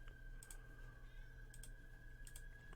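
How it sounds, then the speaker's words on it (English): A house cat meows faintly in the background of a room, its brief cries nearly buried under bursts of computer keyboard typing and a steady electronic hum. "Cat's going mad."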